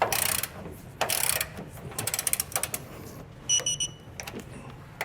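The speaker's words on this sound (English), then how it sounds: "And then we'll just go through to each of our hardware and torque them down." Ratchet wrench tightening hardware on an above-bed base rail kit on a 2018 Ram 2500 truck, bursts of quick close clicking with pauses between them, fairly quiet, no talking.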